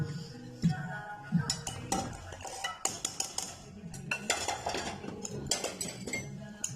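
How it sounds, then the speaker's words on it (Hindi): Chicken and vegetables go into a pan of white pasta sauce, with steady metal utensil clinks and scraping against the pan as everything is stirred together. "सॉस हमारा रेडी हो चुका है, तो अब हम चिकन और वेजिटेबल जो है वो डालेंगे इसमें।"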